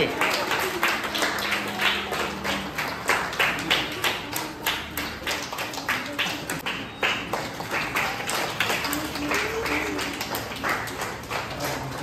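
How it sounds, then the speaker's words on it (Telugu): Audience members clapping at a Kuchipudi dance event, steady irregular hand claps throughout at moderate loudness, with some voices mixed in underneath. "క్లాప్స్ కొట్టాలి."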